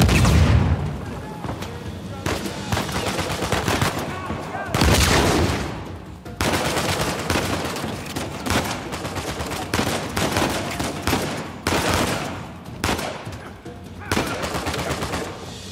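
AK-47 gunfire in the Uncharted 4: A Thief's End video game, loud repeated automatic bursts with brief gaps, heavy booming reports mixed with occasional talk throughout.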